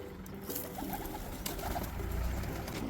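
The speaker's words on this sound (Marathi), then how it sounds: "तर बघू शकता तुम्ही, एवढे सारे कबूतर आहेत माझ्याकडे." About thirty domestic pigeons kept on a farm coo softly in a low, overlapping murmur against steady background noise, with no one speaking.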